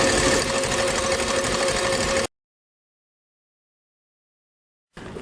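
An electric mixer whips egg whites to a meringue with a steady, close, buzzing whir that runs for about two seconds, cuts to silence, and then starts again briefly at the end, with no talking.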